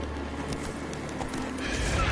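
Hoofbeats of a horse galloping in The Witcher 3: Wild Hunt, a steady rumbling clip-clop under dense game ambience that swells louder toward the end.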